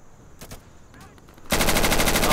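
Gunfire in the Insurgency video game: a couple of sharp single shots, then a loud, sustained rapid-fire automatic burst that dominates to the end.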